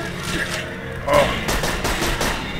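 Gunfire in the video game Borderlands 2, with rapid bursts of shots in a steady rattling run and a slightly louder cluster partway through, all against busy game background sound.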